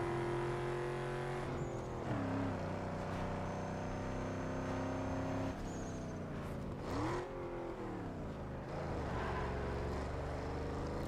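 Several SUV engines roar steadily in a circuit race in Need for Speed Underground 2 on PS2, a loud, continuous revving drone whose pitch dips and climbs with gear shifts, with no talk.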